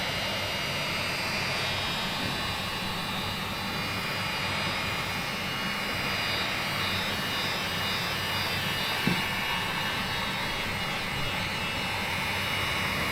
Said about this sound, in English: Heat gun on high.